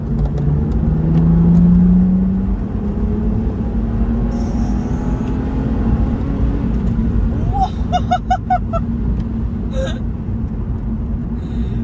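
A BMW Z4 Coupe engine drones steadily, swelling as it accelerates, with faint clicks and mechanical chirps near the end; no one speaks.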